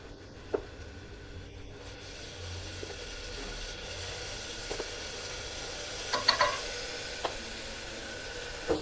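Garlic frying in a pan for chicken biryani, a low, steady sizzle with a few sharp scrapes and clinks of a utensil against the pan, moderately close.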